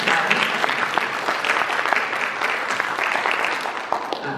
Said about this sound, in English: I just want to give them some special applause